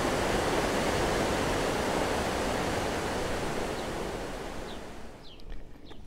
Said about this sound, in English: Now you can see how big the waterfall is comparing to the people standing there.